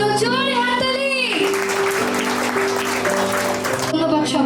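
An audience claps at a centenary celebration, a steady burst of applause after a voice speaks briefly at the start, with a sustained tone running underneath.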